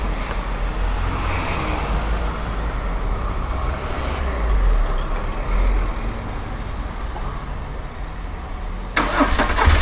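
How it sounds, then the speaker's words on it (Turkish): A BMW R1200 GS motorcycle, just back from servicing, fires up and settles into a steady, loud engine rumble that runs throughout, with a sharper burst of noise right at the end. "Motoru çalıştıralım."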